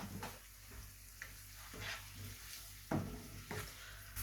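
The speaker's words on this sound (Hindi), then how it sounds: "इसको हम तकरीबन 1 मिनट के लिए फ्राई करेंगे कि ये हल्का सा ब्राउन हो जाए" Garlic and ginger fry in a pan over a high flame, giving a steady soft sizzle with a few louder crackles and stirring scrapes, close and moderately quiet with no talking.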